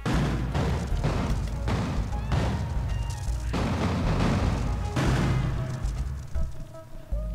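Heavy explosions in the video game Castle Story boom one after another, about half a dozen loud blasts with rumbling tails, close and overlapping.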